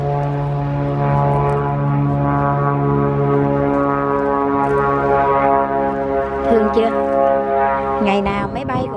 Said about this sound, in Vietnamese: Ngày nào máy bay cũng bay hết trơn á.